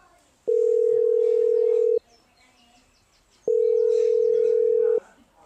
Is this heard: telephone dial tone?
yes